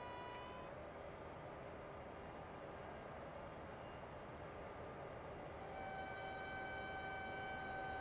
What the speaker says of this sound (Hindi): आगे से जो है देख सकते हैं फ्राइट ट्रेन क्रॉसिंग आती हुई गाइस, और जो साउंड्स हैं गाइस वो सुन सकते हैं हम लोग।